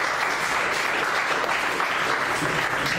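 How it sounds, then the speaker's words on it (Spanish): A church congregation claps steadily, a dense continuous wash of applause filling the room without pause. "Denle ofrenda de palmas a Dios."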